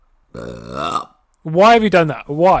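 A long, loud, drawn-out burp sounds close up, followed after a short pause by a person speaking.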